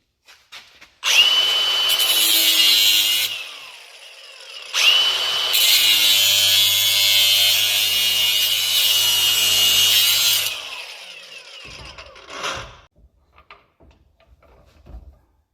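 Power tool cutting an LT1 throttle body coolant bypass part, trimming it down around its three bolt holes: two loud sustained grinding, sawing bursts separated by a short pause, followed by a brief final scrape and quiet handling.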